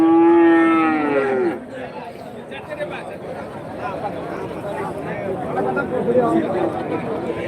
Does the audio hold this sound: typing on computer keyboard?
no